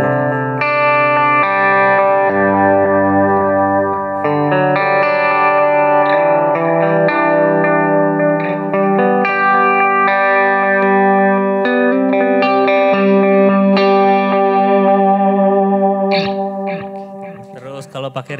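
An electric guitar plays through a Valeton delay effect. The picked, ringing notes and sustained chords are loud and close, and each note trails off in echoing repeats over a long, continuous passage. No one speaks.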